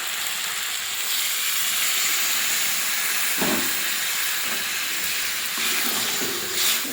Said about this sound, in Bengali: ভেজে রাখা উচ্ছেটা দিয়ে জল দিয়ে দেবো